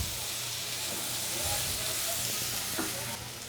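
Chili and coriander powder masala fries on a low flame, making a steady hissing sizzle with occasional stirring scrapes, alone and with no talk.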